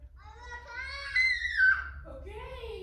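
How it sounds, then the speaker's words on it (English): Young child screaming and wailing in another room of a home, a high strained cry rising and breaking over a few seconds, moderately loud though muffled by distance. "You can hear him screaming out there, sorry."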